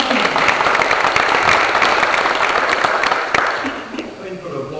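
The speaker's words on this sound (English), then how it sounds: "Thank you for the applause and thank you for being here." Sustained applause from an audience at a city council primary forum, loud and dense at first, then thinning and fading toward the end.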